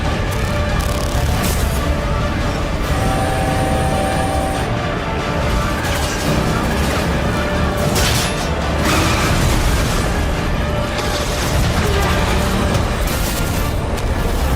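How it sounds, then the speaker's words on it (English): Giant explosions from the Final Fantasy VII Rebirth trailer roar in a dense, loud, continuous mix of booms and crashing bursts that fills the whole stretch without letup. "giant explosions."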